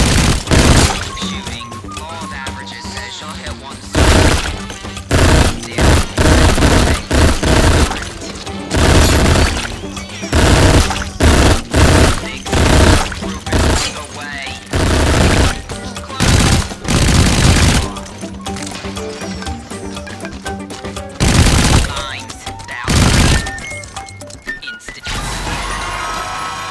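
Loud, rapid bursts of gunfire from the Shooty Fruity video game, repeated volleys with short gaps between them and crashing impacts mixed in, alone without talk.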